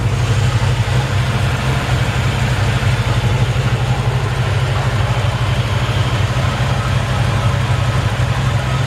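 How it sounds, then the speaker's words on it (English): The old V8 engine of a 1957 Chevrolet 3200 truck idles steadily with a deep, even low rumble and constant mechanical hum, close and fairly loud, with no talking. "Nice smooth running engine."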